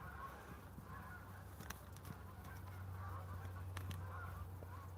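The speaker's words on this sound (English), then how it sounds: "Oh, there's more geese." Geese honk on a foggy day, outdoors and fairly far off. The calls are scattered and faint over a steady low hum, and no voices are heard.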